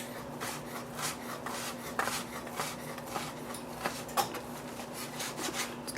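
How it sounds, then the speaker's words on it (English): Knife slicing through 3 ounces of folded prosciutto on a board: soft, repeated rubbing strokes, close and fairly quiet, with a steady low hum underneath and no talking. "Kind of easier to cut when it's folded over like this than it would be if you try to cut it in strips."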